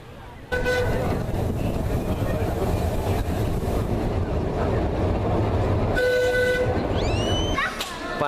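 Train arriving in Soller, Mallorca, rumbling loudly with two sustained horn blasts, one early and one later, then a squealing rise as it slows.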